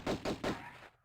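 Three quick gunshots in a video game, evenly spaced and punchy, followed by a short fading tail.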